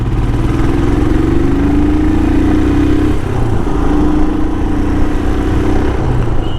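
A Royal Enfield Himalayan motorcycle cruises along a road with a steady, loud engine drone and wind rush throughout, its tone rising and easing slightly as the rider holds speed.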